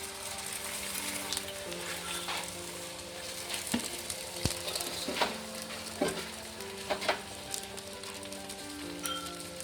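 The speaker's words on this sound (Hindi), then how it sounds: "ये अब हम अंडा फ्राई करेंगे" An egg fries in a pan for a street-style shami burger, sprinkled with red chilli and salt, giving a steady close sizzle with occasional stirring scrapes and pops, no voices.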